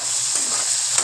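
Vegetables for vegetable chowmein sizzling loudly in a hot pan, a dense continuous hiss with a faint scrape of stirring, close up and brief.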